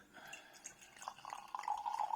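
Kingston Black whisky barrel cider poured from a bottle into a glass, with a faint liquid trickle and glugging that rises as the glass fills, close and quiet.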